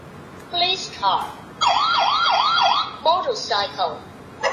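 A toy police car siren from a children's talking sound book, electronic and wailing in quick rising and falling sweeps, loud and close, broken up by short spoken bursts.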